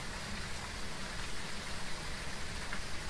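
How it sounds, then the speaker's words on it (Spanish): Rain falls in the video game Phasmophobia, a steady, dense hiss of downpour that holds evenly throughout with no talk over it. "Está lloviendo."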